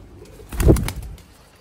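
Pigeons from a flock of about 21 game birds give one brief, fairly close burst of cooing with a flutter of wings, rising and fading within a second against quiet background.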